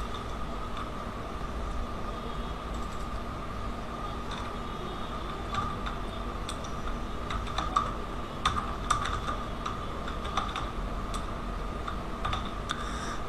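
Typing on a computer keyboard during an Illustrator class, entering a short place name: scattered light key clicks in irregular bursts over a constant low room hum, no speech.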